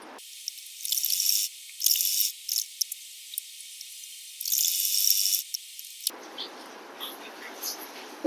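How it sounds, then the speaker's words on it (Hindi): A sewing machine stitching a pocket onto a salwar, run in several short bursts of rapid mechanical clatter separated by pauses. The machine then falls quieter, leaving faint handling noises. "पहले हम पॉकेट को इन तीनों तरफ से सिल लेते हैं।"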